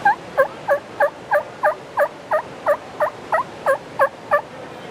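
A rapid series of about fourteen turkey yelps, evenly spaced and fairly loud, made with a diaphragm mouth call imitating a turkey, with no talking.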